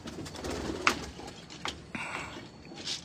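Rare Jansen breeder pigeons from a Faisalabad loft coo in a low, steady murmur, broken by a few brief sharp clicks and flutters close by, with no voices present.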